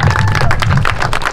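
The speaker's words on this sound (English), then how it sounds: "let's give Chester a round of applause" A quick round of applause for Chester, a trained dog, loud close clapping from a small crowd in a brief rhythmic flurry.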